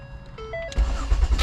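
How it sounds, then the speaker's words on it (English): A 2011 Ford Escape with an ignition lock fault cranks and catches almost at once, a brief chime first and then the engine settling into a steady, close idle. "Let's see if the car will want to start easier."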